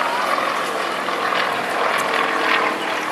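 A display aircraft's powerful engine drones steadily overhead during a barrel roll at a national air show in Wales, a continuous, fairly loud roar with no voices.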